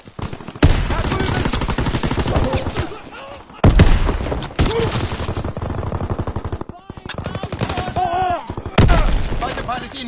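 Rapid automatic gunfire and explosions from a PS4 war video game, dense and loud bursts with short pauses, overlaid with in-game voices.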